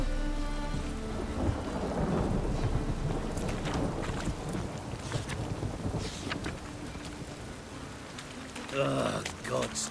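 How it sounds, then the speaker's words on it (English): Heavy rain pouring down with deep rolling thunder in a city in The Witcher 3: Wild Hunt, loud and continuous, with a voice grumbling briefly over it near the end. "Ugh, gods damn this weather. Rain."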